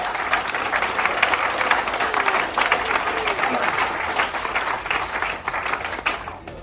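Audience at a sales seminar applauds in a sustained, dense round of clapping that holds steady throughout before easing slightly at the end.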